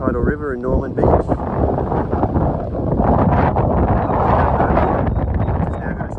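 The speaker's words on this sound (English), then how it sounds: "Very windy." Loud wind buffeting a microphone in gusts on the Mount Bishop summit walk at Wilsons Promontory, a steady rushing roar with people talking over it throughout.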